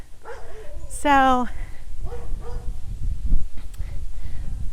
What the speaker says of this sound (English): I woke up a dog, I think.